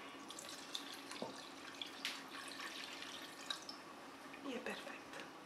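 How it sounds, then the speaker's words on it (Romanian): Water trickles and splashes into a cooking pot of cabbage rolls (sarmale) held down under a small plate, a soft running pour with occasional drips and light clinks. "Și mai adăugăm apă."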